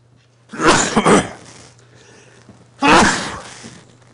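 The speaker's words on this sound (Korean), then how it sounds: "여러분이 이렇게 선생님이 기침하고 그러면" Two harsh coughing bursts, the first a double cough, then a pause before a second loud cough, close to the listener with no talking.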